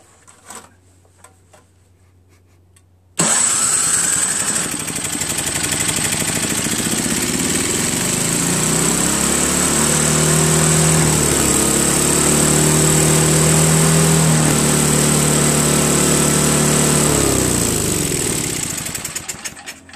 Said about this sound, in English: Throttle doesn't work up and down. It's revving really high.